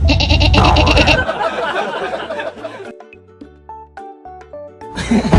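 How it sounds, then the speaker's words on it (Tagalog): A goat bleating loudly nearby as it crosses at a family island resort and waterpark, a strained wavering cry at the start and again at the end, with music playing underneath. "Tawid muna yung kambing, Jack."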